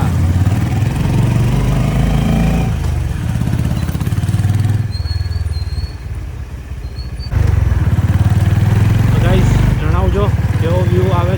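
A motorcycle engine idles with a steady, low, rumbling drone in a basement parking area, close to the microphone. Someone talks over it, and the engine note dips briefly partway through before returning.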